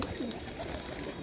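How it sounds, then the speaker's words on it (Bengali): An ice pigeon coos softly once, a short low warbling call close by and faint against background hiss. "দুর্দান্ত আইস কবুতর"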